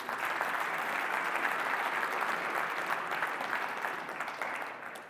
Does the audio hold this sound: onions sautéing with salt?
no